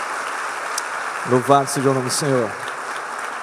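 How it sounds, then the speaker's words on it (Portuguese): A church congregation applauds continuously in a worship service, a soft steady clatter of hands filling the room while someone speaks over it. "Queridos, vamos aplaudir o nome de Jesus pela vida dos nossos queridos que estão aqui conosco."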